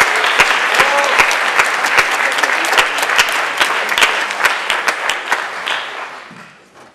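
Enthusiastic audience applause at the 2013 Dover-Sherborn High School spring music concert, dense clapping from a crowd sustained for several seconds before fading out at the end.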